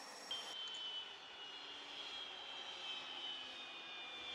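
Aircraft engine starting up early in the morning, a steady, close drone with a high whine that kicks in just after the start and holds evenly throughout.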